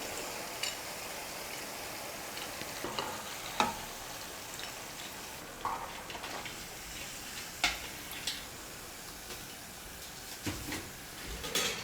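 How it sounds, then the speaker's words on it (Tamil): Murukku made with moong dal crackles and seethes in hot oil. The frying hiss stays steady throughout, with small pops and ticks scattered over it, and no one speaks. "இந்த 2 முறுக்கும் நல்லா எப்படி நுர மாதிரி பொங்கி கொதிக்குது பாருங்கள்"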